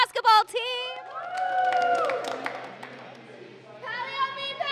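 A crowd cheers and whoops for the Palo Alto girls basketball team, bright youthful voices rising in a loud burst, then settling before another swell of cheering at the end.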